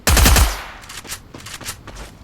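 A loud, close burst of gunfire opens the scene in the Free Fire video game, followed by fainter scattered shots and echoes trailing off over the next two seconds.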